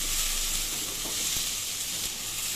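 Green chilies hit hot mustard oil in a pan, giving a steady, close, even sizzle and fry hiss that runs the whole time with no voices.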